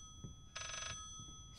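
A telephone bell rings in the video game Layers of Fear: one short burst of rapid electronic trilling, loud against a low, murky game ambience with faint thuds.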